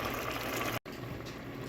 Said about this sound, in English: It has been boiling and lots of the liquid has already boiled off.